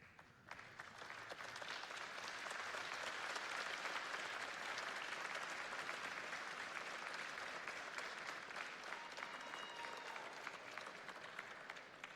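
A large audience at a university convocation claps continuously, swelling quickly after a brief quiet start into a steady, even wash of applause that holds to the end.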